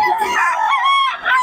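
A rooster crows once, loud and close, amid the chickens at a poultry market in Bocaue.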